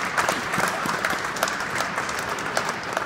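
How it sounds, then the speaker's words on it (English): An audience at a Black History Month celebration breaks into a big round of applause, a full, lively burst of many hands clapping with some sharp individual claps standing out, continuous throughout. "Give yourselves another big round of applause."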